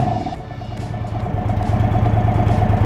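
Air-cooled 1890cc Indian Chief motorcycle V-twin idling just after startup, a steady low throbbing rumble with a pulsing beat, close and moderately loud, with no one talking.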